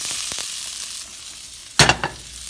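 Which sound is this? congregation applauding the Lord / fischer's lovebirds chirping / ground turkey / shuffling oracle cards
ground turkey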